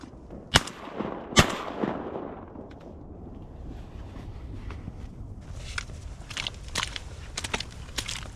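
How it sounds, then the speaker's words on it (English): Two sharp, loud shotgun blasts fired at birds during an ice-storm waterfowl hunt, spaced about a second apart, followed by quieter rustling, footsteps and crackling outdoor noise. "Shoot him, shoot him."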